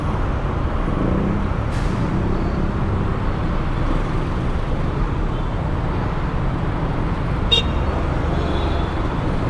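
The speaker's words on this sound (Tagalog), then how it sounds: "Buhol-buhol na traffic." Dense, congested road traffic heard from a moving motorcycle, a constant broad roar of engines and road noise with a couple of brief horn or air-brake hisses standing out.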